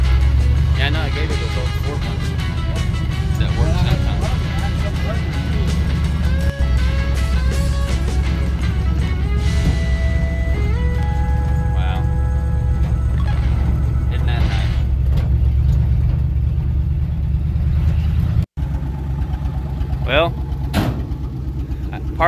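A 1967 Dodge car running, its engine idling with a loud steady low rumble close by, a sharp knock near the end, and people talking over it.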